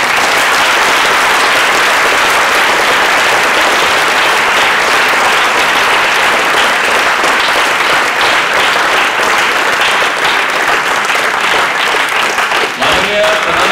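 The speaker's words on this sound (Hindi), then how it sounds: "तालियों से उनका सम्मान करें" A large crowd at a school Hindi Divas function claps loudly and continuously in dense, sustained applause close to the microphone, with no break for the whole stretch.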